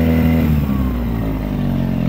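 A motorcycle engine, started with throttle and choke, runs loud and close, revving with a strong steady drone that dips slightly as the revs settle.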